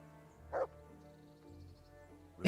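Two short dog barks in the video game Kingdom Come: Deliverance, one early and one at the end, over a quiet background with soft ambient tones.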